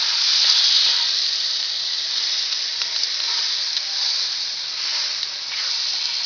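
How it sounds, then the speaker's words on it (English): Butter melting in a pan gives a steady, bright sizzling hiss that holds evenly throughout, close and moderately loud, with no voices. "we're going to get this butter melted"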